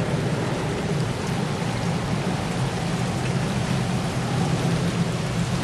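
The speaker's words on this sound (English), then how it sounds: "The wind really sounds eerie." Steady, loud roar of wind and driving rain during a tornado warning, a dense continuous rush with no pauses, like a storm blowing hard outdoors.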